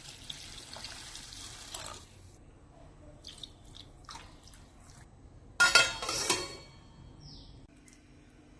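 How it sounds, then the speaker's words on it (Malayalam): Water is poured over soaking flattened rice (aval) in a kitchen bowl, a quiet trickle and drips with a brief louder splashing pour in the middle, faint and close. "ഇതിലേക്ക് നല്ലോണം മുങ്ങിക്കിടക്കുന്ന ഭാഗത്തിന് വെള്ളം ഒഴിച്ച് അരമണിക്കൂർ കുതിർത്ത് വെക്കാം"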